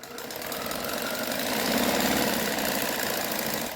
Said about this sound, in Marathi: आता आपण इथे अशी दाब शिलाई घेऊन घ्यायची.